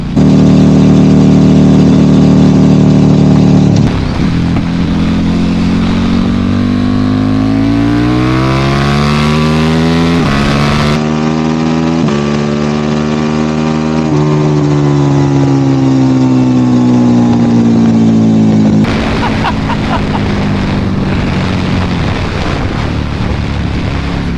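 A KTM RC8R motorcycle with a loud aftermarket Jester exhaust idles, then revs repeatedly, its pitch sweeping up and down, close and raw with a harsh throaty rasp.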